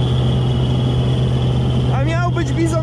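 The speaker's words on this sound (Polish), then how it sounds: "Silnik pracuje, zobaczcie, nawet dyma nie ma." A Claas combine harvester engine drones steadily at close range with a constant low hum and whine, and a voice rises briefly over it near the end.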